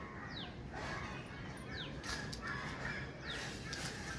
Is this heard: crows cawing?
yes